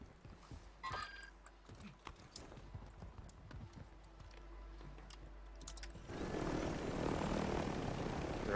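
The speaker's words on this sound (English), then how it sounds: "I'm coming in a helicopter over here, dude" A helicopter flies in the video game Call of Duty Warzone, its rotor chop swelling into a loud steady roar over the last seconds after game noises and footsteps.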